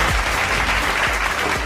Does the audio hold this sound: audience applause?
yes